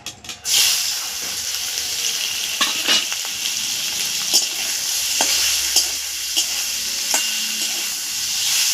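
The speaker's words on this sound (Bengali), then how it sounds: "চিংড়ি মাছটা বেশি ভাজতে নেই, অল্পই ভাজবো" Shrimp coated in salt and turmeric fry loudly in a hot pan, a continuous close sizzle punctuated by light scraping clicks as the pieces are moved around.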